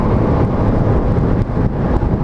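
Wind buffeting past the fairing of a Kawasaki Ninja 400 on the move, a loud, continuous low roar with rumbling gusts, no voice over it.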